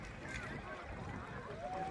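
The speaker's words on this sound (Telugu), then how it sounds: "పడవలో ప్రయాణం" A boat ride on the Krishna river near Srisailam: a steady, close wash of engine and water noise with wind buffeting throughout, and faint whistling tones drifting above.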